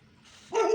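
A single close bark comes from a mother dog defending her puppies at a house in Burdur, Turkey, short and sharp after a quiet moment.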